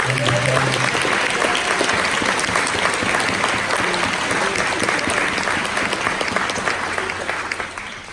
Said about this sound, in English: certainly think our moderator, Jean Godden, deserves a nice round of applause.